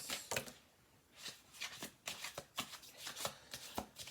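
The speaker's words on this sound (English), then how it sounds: "I'm going to do one more shuffle through." Cards riffle and snap repeatedly in quick bursts as a deck is shuffled close by, several rapid shuffles in succession.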